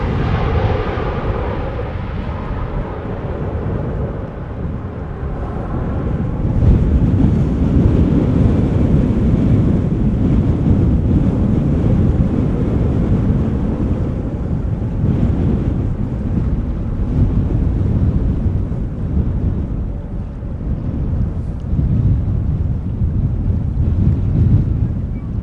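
Strong wind blasts across a camera microphone at Schiphol Airport, a loud, continuous low rumble and roar that swells and eases in gusts for the whole stretch.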